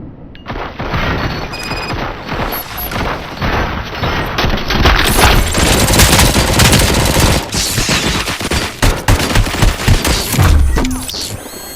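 Dense bursts of automatic gunfire and booming shots from the video game Robocop: Rogue City, rapid and loud, continuing in heavy volleys almost without a break.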